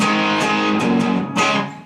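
A distorted electric guitar plays a short riff from the verse of a song, a dense, saturated chordal wash with a few sharp pick attacks, loud and close with no speech.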